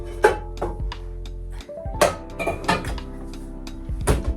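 A pan is taken out and handled in a home kitchen, giving several scattered metallic clanks and knocks of varying loudness, close by, with no talking.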